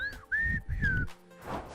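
A whistle in Old School RuneScape, several clear, sustained tones in short bursts with brief gaps, close and fairly quiet, ending in a soft breathy rush.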